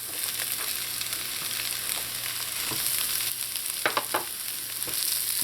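Mushrooms sizzle steadily in a hot pan for Louisiana chicken pasta, with a constant close frying hiss and several scattered pops and clatters as they are tossed.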